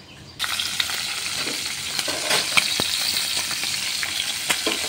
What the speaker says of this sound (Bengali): এবার আমি একে একে মাছগুলো ভেজে নেব।